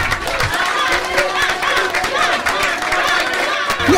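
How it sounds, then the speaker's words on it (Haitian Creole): Applause for an award winner at a ceremony, a steady wash of crowd clapping with some chatter and cheering mixed in, continuous and fairly loud throughout. "Sous un tonnerre d'applaudissements"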